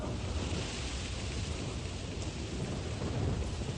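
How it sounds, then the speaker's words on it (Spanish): Steady heavy rain pours down as a dense, continuous hiss, with a low rumble underneath and no voices. "La forma más común de precipitación es la lluvia"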